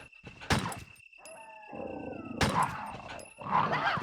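Zombie dogs in the PlayStation game Resident Evil snarl and growl in short bursts, mixed with thuds and game effects, played at moderate volume.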